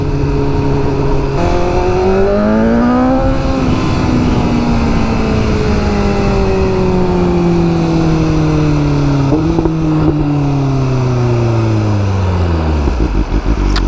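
Engine of a BMW M1000R or Ducati Streetfighter V4S sport motorcycle under a hard ride, loud and close, rising through the gears with shifts, then easing off to a lower drone before climbing again.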